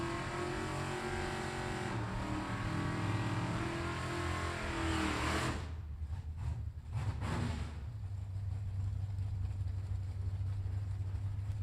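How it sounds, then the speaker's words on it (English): Drag racing cars, an Oldsmobile Cutlass among them, roar loudly at a drag strip, then the engine note cuts off abruptly with a few sharp bursts before settling into a steady lower drone. "The Oldsmobile in the left-hand lane down 770, and Hicks in the Cutlass 691."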